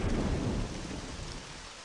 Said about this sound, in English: The storm continued outside.